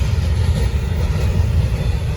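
A Norfolk Southern freight train rolls past slowly in a heavy, continuous low rumble with steady wheel and car noise, close and loud, without horn or talk.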